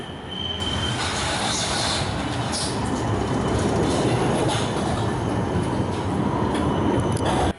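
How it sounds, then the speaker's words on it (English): An Amsterdam tram rolling along its rails, heard from on board as a loud continuous rumble with squealing wheels and light rhythmic clatter, steady throughout before cutting off at the end. "This is our first journey on the Amsterdam tram."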